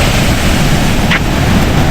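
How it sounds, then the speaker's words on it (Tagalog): Strong ocean waves break on a beach at night, a loud, dense wash of surf noise that fills the short stretch without pause. "Medyo ang lakas ng alon."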